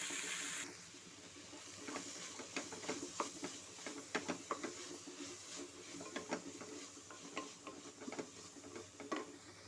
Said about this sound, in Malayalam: വെളിച്ചെണ്ണ ഒഴിച്ച് ചെറുള്ളി സവോള പച്ചമുളക് എന്നിവയിട്ട് നന്നായിട്ട് വഴറ്റുക